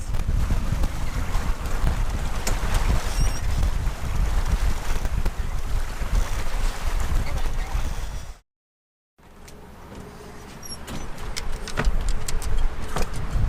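A 25-knot wind roars and buffets against the microphone on a sailboat moving at about 6.4 knots, over rushing water and the hull, broken by a brief drop-out before the gusting resumes.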